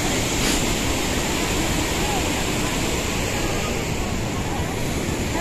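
Dhuandhar Falls at Bhedaghat roars as a constant broadband rush of falling water, loud and unbroken for the whole stretch with no pause.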